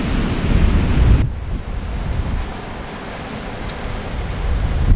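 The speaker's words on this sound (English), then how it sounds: "The wind, the waves," Sea waves and wind on the rocky coast at the Giant's Causeway in Northern Ireland, a steady loud roar of surf with heavy wind buffeting the microphone.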